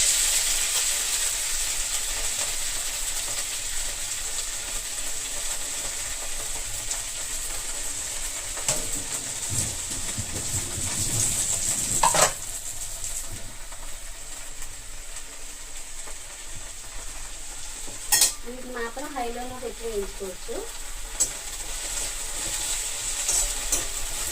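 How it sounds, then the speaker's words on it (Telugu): Fresh tender tamarind leaves tossed into a hot oiled pan, giving a steady hissing sizzle throughout with a couple of louder clatters and stirring scrapes, close and alone with no talk. "దీనిలోనే ఫస్ట్ చింత చిగురు వేసేసుకుందాం"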